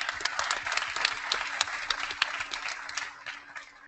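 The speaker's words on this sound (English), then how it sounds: "So big round of applause." Tired participants at a veterans' Startup Weekend in San Diego applaud after 54 hours of work, with a soft, steady patter of clapping that fades slightly toward the end.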